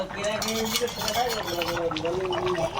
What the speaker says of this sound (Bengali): সুন্দর করে কষিয়ে নিচ্ছি টক করে আওয়াজ হচ্ছে